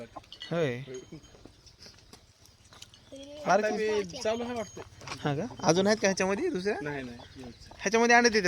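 Free-range village hens cluck close by as people talk over and around them, the hen calls mixed in with the voices.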